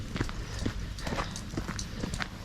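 Horse hooves clip-clop in a steady rhythm on a lane in the English countryside, fairly close, over a constant rushing background.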